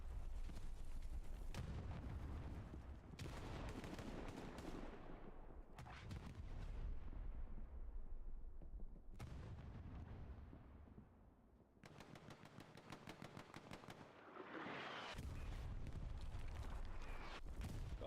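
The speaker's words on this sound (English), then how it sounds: "Artillery coming in nice and hard." Incoming artillery fire in Hell Let Loose, a series of heavy booming impacts and bursts spread across the stretch with rumbling decay between them, mixed with distant machine-gun rattle, fairly faint overall.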